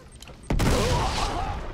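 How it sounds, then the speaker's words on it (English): A grenade in Uncharted: Drake's Deception goes off with a sudden loud, close blast that rolls into a sustained rumbling roar after a moment of quieter game sound. "Pull the pin on his grenade."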